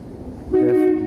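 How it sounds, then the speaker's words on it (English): An arriving train sounds a short, loud, sustained horn note close by, cutting in over low rumbling rail noise. "The trains arrive."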